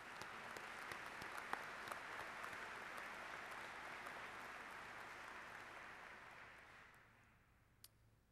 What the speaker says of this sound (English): If we could get a round of applause for that.